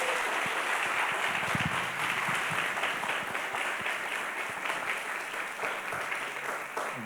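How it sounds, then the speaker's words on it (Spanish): An audience applauds steadily at a podcast-writing workshop, a dense wash of many hands clapping at once, sustained and fairly loud throughout without voices standing out. "Un aplauso fuerte para"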